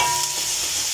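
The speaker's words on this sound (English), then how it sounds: "Let them caramelize as you stir." Potatoes sautéing in a pan as they are stirred to brown, a brief, close, steady sizzle with a faint scrape of movement and no voices.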